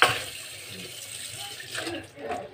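Clothes being washed by hand at home under running tap water: a steady splashing, gurgling stream that continues close by for a few seconds.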